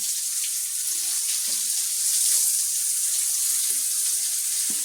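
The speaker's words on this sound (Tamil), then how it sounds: "இப்போ தண்ணி அடிக்க வந்தேன்" Water sprays steadily onto green chilli plants inside a glass greenhouse, a bright continuous hiss of the stream at close range with no talking.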